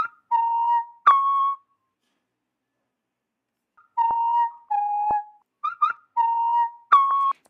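A clean whistle melody from a lofi track plays short sustained notes in two phrases separated by a pause of silence, each note clear and isolated with no other instruments or voices.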